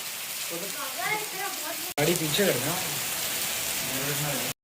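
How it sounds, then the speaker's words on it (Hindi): Heavy monsoon rain pours steadily outdoors in a hot Indian or Pakistani neighborhood, a dense loud hiss throughout while people talk over it, with a brief cut partway. "बारिश नहाने वाली हो रही है वाकई"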